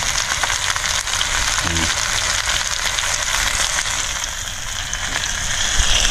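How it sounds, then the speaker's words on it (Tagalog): Chicken browning in a pan as fish sauce is sautéed into it for tinola, a steady close sizzle and crackle of frying with no pauses. "So pwede na natin igisa yung fish sauce."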